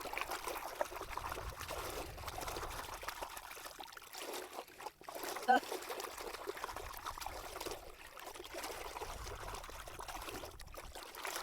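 Water being stirred and poured for a biodynamic preparation on an Australian farm, a continuous close trickling and sloshing flow with a small splash midway, no talk.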